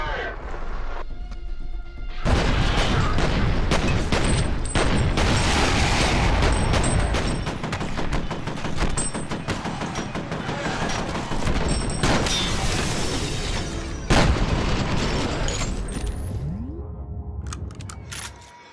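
Slow-motion gunfire and explosions in the first-person shooter F.E.A.R.: dense, loud bursts of shots and booming blasts, with smashes and debris continuing almost nonstop, and a voice talking at times beneath the action.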